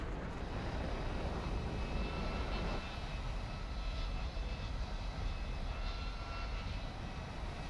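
In the game War Thunder, a jet flares with its afterburner lit, a dense, steady roar with a deep rumble that shifts slightly in tone partway through, loud and unbroken with no voices.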